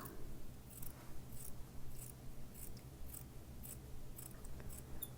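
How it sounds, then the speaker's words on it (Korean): Scissors cut through a double layer of fabric lining for a crochet clutch, laid flat on the floor, giving about a dozen crisp, evenly spaced snips in a steady rhythm, close and quiet. "시접은 대략 한 1cm를 남기고 잘라주세요"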